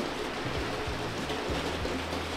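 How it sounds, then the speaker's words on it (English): Rain pours hard outdoors in the early morning at a roller rink location, a loud, steady wash of water noise with low rumbling thumps underneath, no talking. "And it's raining pretty hard"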